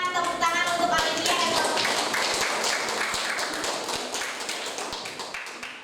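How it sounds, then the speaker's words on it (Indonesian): A classroom of students clapping for a classmate, bright scattered claps that fade out over several seconds, with a voice speaking at the start and some shuffling and thumps around the room. "Berikan tepuk tangan untuk Olivia"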